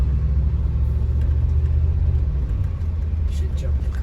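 Mercedes W463 G-Wagon with a check engine light and EVAP vapor canister fault, heard from inside as a steady, loud low rumble of engine and road noise while driving onto the highway.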